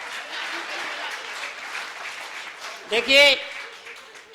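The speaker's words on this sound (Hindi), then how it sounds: "भाई साहब के लिए भी तालियां बजाओ।" A crowd at a Hindi comedic poetry gathering (hasya kavi sammelan) claps in a moderate, steady patter, and a voice speaks briefly near the end.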